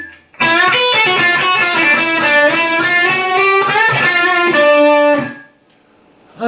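A distorted electric guitar plays the lead lick in seventh position: a loud, sustained, gritty run of bent and held notes, with one brief break near the end before the sound cuts off.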